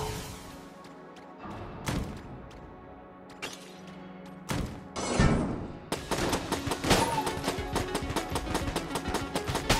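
Pistol gunfire in the video game Enter the Gungeon. Sharp, separate shots at first, then a fast, dense run of rapid firing over thumps and impacts, loud and close, with no speech.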